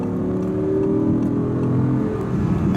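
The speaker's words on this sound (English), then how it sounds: "the sounds that we're hearing right now are the engine noise" A 2017 Audi R8 V10 engine running in dynamic mode while driving, a steady close mid-pitched drone with a slight rising tone as it pulls along, heard inside the cabin without talk.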